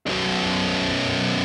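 Heavily distorted metal guitar chug on the low string tuned slightly flat, one sustained palm-heavy hit ringing thick and buzzy at close range for about a second and a half.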